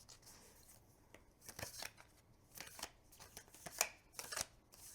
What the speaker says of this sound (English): I think this overhand shuffle is a bit, yeah, it's kind of clumpy